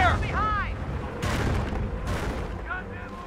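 Gunfire in the World War II strategy game Company of Heroes: two bursts of distant shots and booms amid battle noise, with radio-style voices speaking over them.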